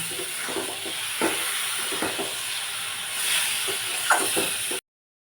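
Carrot halwa with soaked raisins stirred in a pan, giving a steady soft sizzle and hiss with repeated scraping and stirring strokes up close, ending abruptly in silence.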